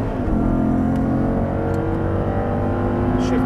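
An Audi R8 engine pulling hard after an upshift on a track course, a steady loud droning roar that holds throughout, with a faint voice in the background.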